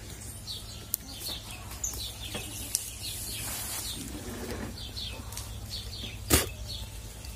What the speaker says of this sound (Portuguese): Os passarinhos estão comendo.